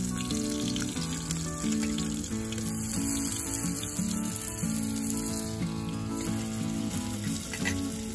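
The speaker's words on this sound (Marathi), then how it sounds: "बटाटे टाकून परतून घेतलेले आपण." Potatoes sautéing in hot oil with cumin for a potato curry, a steady even sizzle and crackle of frying running unbroken throughout, moderately loud with no talk.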